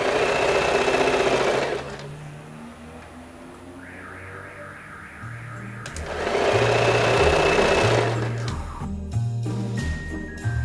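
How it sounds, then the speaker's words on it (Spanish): A sewing machine stitches a straight seam with the needle down on a fabric strip for a simple graduation dress, running in two steady bursts with a quiet pause between and some soft handling noise. "Giramos la máquina con la aguja enterrada y cosemos recto."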